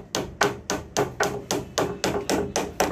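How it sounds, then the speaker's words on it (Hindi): Small nails are hammered into a WPC louvre wall panel: about eleven sharp, close metallic taps fall in a steady, evenly spaced rhythm, with no talk over them. "ये आप देख सकते हैं ये पहले पीस में कील लगाई जा रही है"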